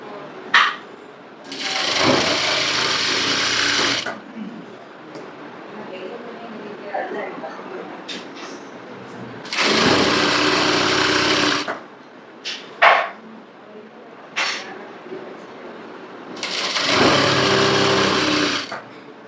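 Sewing machine stitching salwar pants runs in three sustained whirring bursts of about two seconds each, separated by pauses with speech, fabric handling and short clicks.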